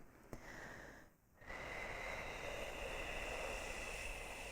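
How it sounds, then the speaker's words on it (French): A long, forceful breath is pushed out during pranayama yoga breathing, coming as a close, airy rush. A brief pause and a small catch of breath break it before a sustained, steady exhale follows. "on va expirer à nouveau ensemble jusqu'à ne plus avoir d'air."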